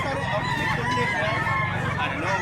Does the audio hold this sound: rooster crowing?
yes